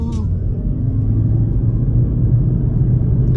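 A 2022 Toyota Prius Limited accelerating in power mode, a loud steady low engine and road rumble heard from inside the cabin, continuous and building slightly, with no talk.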